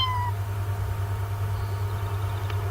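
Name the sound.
cat meowing in The Sims 2 video game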